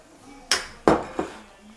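Minestrone being served into a dish with a few distinct clinks and knocks of utensil against crockery, three sharp hits in quick succession over a quiet kitchen background.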